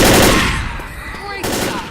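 Gunfire in the Left 4 Dead video game, loud and close, with one burst of rapid shots at the start and another about midway, each trailing off into a reverberant decay.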